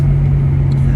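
A Nissan R32 GTR pulling in fourth gear gives a steady, loud, low engine drone with a constant hum that holds throughout, without a clear rise in pitch.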